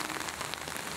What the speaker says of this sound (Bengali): আজকে সকাল থেকে প্রচুর বৃষ্টি হচ্ছে